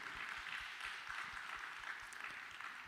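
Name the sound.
congregation applauding fathers in church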